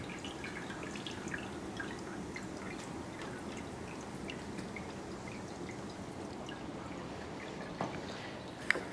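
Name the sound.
maple sap trickling into the evaporator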